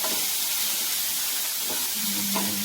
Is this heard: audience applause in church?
no